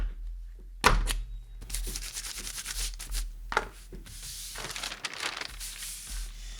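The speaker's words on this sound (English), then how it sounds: "Now since I have the awl tool, I'm going to go ahead and just get these nice and crisp" An awl tool creases paper bodice pattern pieces with seam allowance, giving close, soft scraping rubs and paper rustles broken by a sharp thunk near the start and a few louder scrapes, with no speech.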